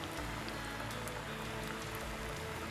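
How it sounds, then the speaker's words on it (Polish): A constant close sizzle of chicken nuggets frying in heated oil, a fine rain-like crackle that holds at even loudness from start to finish, with no one speaking. "Nuggetsy wrzucam na rozgrzany olej."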